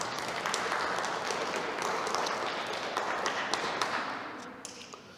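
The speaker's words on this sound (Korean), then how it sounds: "우리 영광의 박수 한번 크게 올립시다." Church congregation at a Korean mission church service in Berlin applauding, a broad wash of clapping from many hands that fades toward the end.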